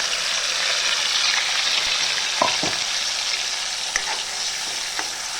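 Onion paste fries with cumin in a pan for chickpea curry, a steady close sizzle with a few stirring scrapes and clicks and no talking.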